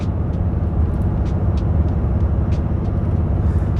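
RAM 3500 with a Cummins diesel engine under boost while towing, downshifted into fifth gear, giving a steady, loud low drone with road rumble that holds constant throughout.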